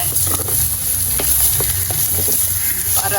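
Shredded beetroot stir-frying in a hot pan, a dense close sizzle running throughout with light scrapes and taps of a stirring spoon.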